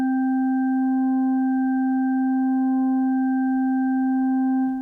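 A Sonicware Liven Evoke synth holds a steady wavetable oscillator drone with clear pure harmonics, sustained and even throughout with only slight tonal shifts as a knob is moved.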